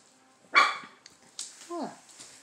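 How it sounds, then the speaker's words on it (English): A dog gives a couple of short barks and a high whimpering yip, close by in a quiet room. "Who are you barking at?"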